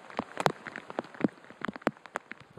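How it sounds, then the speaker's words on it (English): Rain falling on an outdoor golf course during a women's professional tournament, a steady patter with scattered sharper drop taps close by and no voices. "Rain's really starting to come down now."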